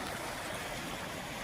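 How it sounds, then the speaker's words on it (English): Heavy rain pours down beside an Alabama creek, a dense, constant hiss and roar of falling water, steady and fairly loud throughout with no voices. "It's starting to pour down rain."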